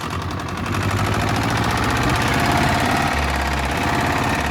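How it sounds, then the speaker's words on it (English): An old car engine, not run in over 20 years, idles roughly with a heavy, rapid knocking rhythm, loud and close, the clatter steady throughout. "that engine definitely needs some attention. That is knocking hard"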